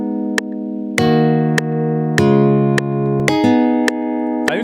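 Synthesized guitar melody for an afrobeat track playing back in FL Studio, sharp plucked notes at a steady pace each ringing into the next, loud and clean with no voices.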